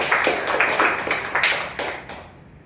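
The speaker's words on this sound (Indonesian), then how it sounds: "Boleh kita kasih aplaus yang meriah." A seminar audience of teachers claps together in a short, lively burst of applause that fades out after about two seconds, with no talking over it.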